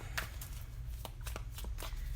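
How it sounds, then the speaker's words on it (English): A deck of tarot cards is shuffled by hand in a quiet room, giving several quick riffling bursts that come close and clear against a low hum. "Just do a couple of shuffles here."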